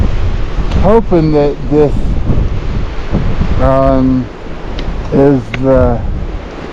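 Strong wind buffets the microphone on a mountain trail with snow ahead, a loud, constant roaring rush that swells and dips, while someone talks over it in short bursts.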